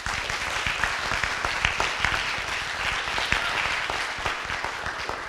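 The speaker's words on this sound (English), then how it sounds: "So I just want to do another round of applause for Gloria and Liz, please." A conference audience applauds steadily at a morning plenary session, the dense clapping holding at an even level from start to finish with no break.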